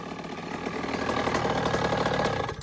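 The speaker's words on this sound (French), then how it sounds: "ça crache bien, c'est un bon petit moteur" A 2013 Beta 50 RR dirt bike fitted with a 75cc kit, its small two-stroke engine idling nearby with a fast, rough, steady putter that swells a little and then eases off near the end.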